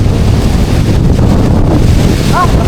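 Strong wind buffets the microphone in a steady, loud rumble near the shore, with a faint bird chirp briefly near the end.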